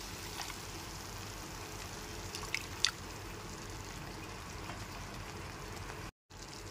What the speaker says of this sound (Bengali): এরপর এর মধ্যে দিয়ে দিচ্ছি হাফ বাটি পরিমাণ গরম জল